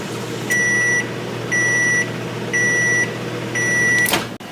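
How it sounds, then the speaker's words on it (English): A microwave hums steadily while melting butter, four evenly spaced beeps sounding, each about half a second long, followed by a brief click as the door opens. "I'm gonna put this butter in the microwave for about 15 seconds."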